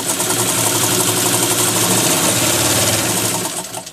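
A Commodore Super Deluxe class 15 straight stitch sewing machine running at speed, a loud, close, continuous whirring motor with a rapid needle chatter that holds steady and eases off at the very end, with no talk.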